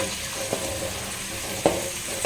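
Onions sautéing in a pan for wedding-style vegetable sambar, with a continuous sizzle broken by a few sharp spoon scrapes against the pan, close and clear, no talking.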